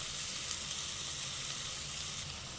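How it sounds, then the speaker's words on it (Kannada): Food frying in ghee while making ghee rice gives a steady, even sizzle that holds throughout, close and alone with no voices. "ಈಗ ನೀಟಾಗಿ ಹಸಿ ವಾಸನೆ ಹೋಗೋವರೆಗೂ ಚೆನ್ನಾಗಿ ಫ್ರೈ ಮಾಡ್ಕೋಬೇಕು."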